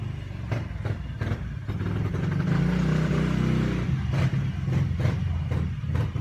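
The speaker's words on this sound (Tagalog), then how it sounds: "may motor." A motorcycle passes close by, its engine rising to a loud steady drone in the middle and then fading, with rhythmic clattering bursts at the start and end.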